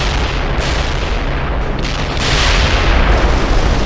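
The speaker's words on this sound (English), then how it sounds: "They're shooting at us! You lost a unit. Incoming fire!" Heavy artillery and gunfire in the real-time strategy game World in Conflict: a loud, continuous barrage of booms and rumbling blasts, dense and unbroken, swelling louder toward the end.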